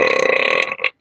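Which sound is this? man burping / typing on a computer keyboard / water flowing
man burping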